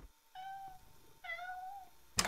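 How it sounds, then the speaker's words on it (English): A domestic cat lets out two drawn-out, wavering meows in a row, close and clear, with a short sharp thump at the very end. "What do cats think when they blankly stare at the wall and frantically meow at 3 a.m."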